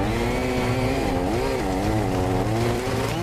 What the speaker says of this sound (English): In this case, we're using the chainsaw.